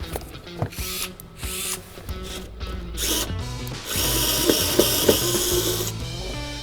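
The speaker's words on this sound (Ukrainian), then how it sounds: "Викрутка акумуляторна CSD36X. Насправді дуже крута штука." A Dnipro-M CSD36X cordless screwdriver backs bolts out of a SAB-15DX or SAB-17DX inverter. It whirs in short bursts with ratcheting clicks and rattles, then runs longer and louder near the end, with no talk.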